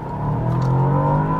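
A 2023 Bentley Continental GT engine accelerating, a smooth rising drone with steady harmonic tone heard from close by, building in loudness over a brief second and a half.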